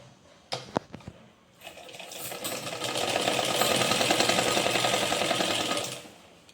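A sewing machine stitches a belt blouse, starting after a few clicks and handling sounds, then running in a steady, close, rapid whir for several seconds before stopping.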